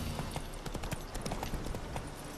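Roach, the horse in The Witcher 3, gallops with a close, rapid clip-clop of hooves in an uneven rhythm, loud and alone throughout.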